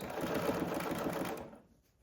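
A sewing machine runs steadily through oven mitt fabric with a close, even whirring hum. It slows and stops after about a second and a half.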